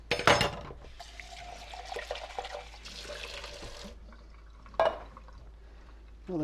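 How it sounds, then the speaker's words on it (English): Canned dark kidney beans tipped into a colander, a wet slosh and pour of liquid with a few soft splashes and drips, quiet and close, no talking. "I'm just going to empty these right into a colander"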